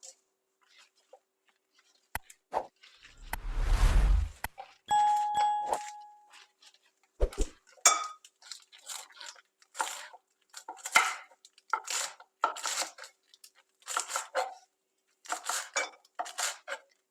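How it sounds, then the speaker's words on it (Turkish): Dishes clank and a pot rings early on, then a knife chops chard leaves and stalks steadily on a cutting board in uneven bursts of quick strokes. "Şimdi önce yapraklarını doğrayıp sonra saplarını doğrayacağım."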